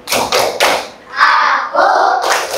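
Children doing a rhythmic concentration clap in a classroom: several sharp group claps in a steady pattern, then a teacher's or children's voices chanting over the claps.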